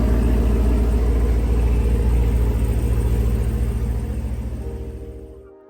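A Camaro muscle car's engine rumbles deep and loud at close range as it backs out, holding a steady pulsing throb before fading and cutting off at the end, with no voices.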